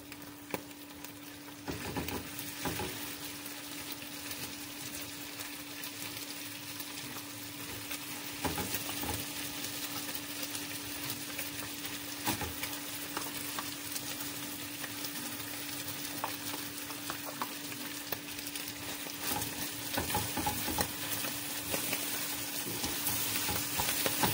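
Corned beef sizzles in a hot pan as a utensil stirs it, giving a constant, close frying hiss with scraping strokes scattered through it and a faint steady hum underneath.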